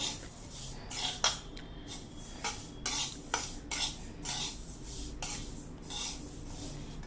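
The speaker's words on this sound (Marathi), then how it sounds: "फक्त जवस आणि तीळ हे दोनच फक्त मी भाजून घेणार आहे" Flax seeds and sesame seeds dry-roasting in a pan, stirred with a utensil, giving a steady soft crackling rustle punctuated by repeated scraping strokes and light clinks, close up with no voices.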